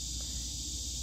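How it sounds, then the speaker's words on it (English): A steady, high-pitched cricket trill hums continuously outdoors on an August evening, even and unbroken, over a low background rumble. "I'm sure you guys can hear those crickets in the background."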